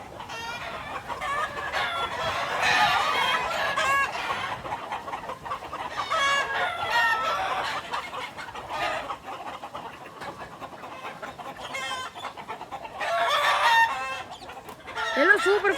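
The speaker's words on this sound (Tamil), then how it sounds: "சூப்பர் கோழிங்க இது." Free-range country chickens and roosters kept in a coop with chicks keep up steady clucking throughout, with roosters crowing at intervals. The birds are fairly close and there is little talk.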